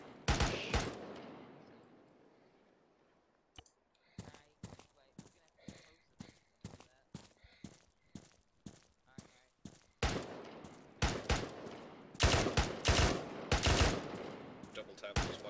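Rapid gunfire in ArmA 3 combat: a loud close burst, then a long steady run of evenly spaced single shots, ending in denser overlapping volleys, with voices talking over it.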